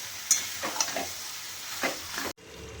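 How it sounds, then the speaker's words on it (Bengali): Duck pieces being stirred and sautéed with spices in a pan, a spoon scraping in bursts over a steady close sizzle that cuts off abruptly near the end. "এবার ভালো করে নেড়ে চেড়ে মিশিয়ে কষাবো একটুখানি"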